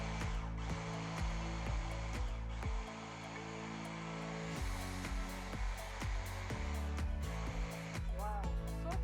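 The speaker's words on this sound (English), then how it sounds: "on a blender just to produce some smooth a great tasting dip just to accompany the meal. So just going to run this." A countertop blender purees a smooth dip for a meal, a steady loud motor whir running continuously with rhythmic thumping pulses from the spinning contents, its pitch shifting slightly midway.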